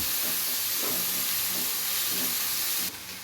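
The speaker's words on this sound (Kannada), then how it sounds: "ಟೊಮೊಟೊನು ಚೆನ್ನಾಗಿ 5 ನಿಮಿಷ ಚೆನ್ನಾಗಿ ಫ್ರೈ ಮಾಡ್ಕೊತೀನಿ" Tomatoes frying in a pan for an okra stir-fry make a steady, loud hiss and sizzle with faint stirring scrapes under it, and the sound drops off abruptly near the end.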